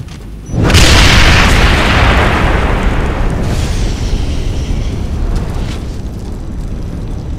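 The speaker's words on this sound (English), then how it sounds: "It's gonna explode!" A loud, rumbling explosion from the video game Ghost Recon Advanced Warfighter 2 bursts in after a brief quiet and sustains a long, roaring decay with crackling debris for several seconds.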